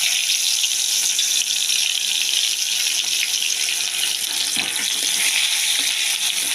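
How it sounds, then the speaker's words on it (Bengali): Dry red chillies and black cumin crackle and sizzle in hot oil in a home kitchen pan, a steady, loud, hissing fry that holds evenly throughout with no talk over it. "আর তেলে দিয়েছি শুকনো লঙ্কা দেখুন আর কালো জিরে"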